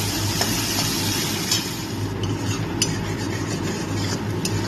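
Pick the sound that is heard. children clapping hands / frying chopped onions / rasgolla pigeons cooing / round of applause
frying chopped onions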